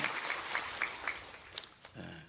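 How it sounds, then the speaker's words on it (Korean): A church congregation at a Sunday worship service claps in a soft, fairly distant burst, with a few sharper claps standing out and a voice coming in at the end. "다시 한번 박수해 주세요"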